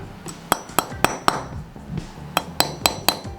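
Sharp metallic hammer strikes on a chain link pin ring out in two bursts of four, evenly spaced, close and loud, with brief pauses between blows.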